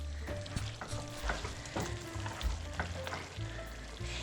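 Noodles and broccoli slaw sizzle and bubble in a pan on a stovetop, with irregular soft clinks and stirring taps over a faint, steady frying hiss.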